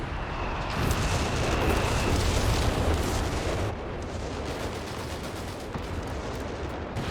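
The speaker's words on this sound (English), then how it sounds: "Yeah, I thought I heard a demo charge going off." A demolition charge blasts amid the constant rumble of gunfire and artillery on a Company of Heroes 3 battlefield, with a loud sustained barrage in the first half easing to a steadier, softer roar afterward.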